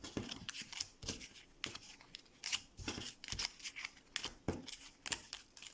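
Cards from a Frosthaven solo scenario deck are shuffled and cut by hand, giving a series of quick riffling and slapping bursts in an irregular rhythm, close and fairly quiet with no talking.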